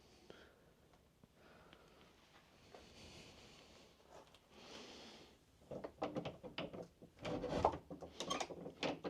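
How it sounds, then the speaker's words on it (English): An old house door is opened with faint creaks and small mechanical rattles at first, then a louder run of clunks, scrapes and knocks as it gives way. "Let's go see if this door will open."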